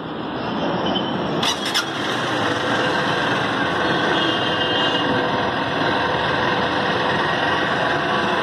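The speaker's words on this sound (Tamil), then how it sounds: "இப்போ என்னுடைய அப்பா வந்து வண்டியை ஸ்டார்ட் பண்ண போறாரு." A new Honda Unicorn 160 BS6 motorcycle engine runs close by with a steady, even idle throughout, with only a brief faint clatter near the start.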